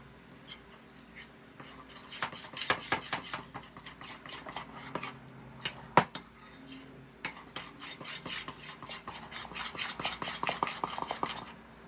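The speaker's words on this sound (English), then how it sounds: "So we're gonna mix this in." A spoon works through a dessert popcorn mixture in a bowl, scraping and clinking in quick irregular strokes that stay close and steady throughout, with no voices.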